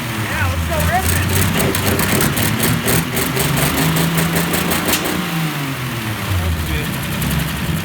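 A rat rod car engine revving hard and close, a loud rough roar rising and falling through several throttle blips, with people talking over it.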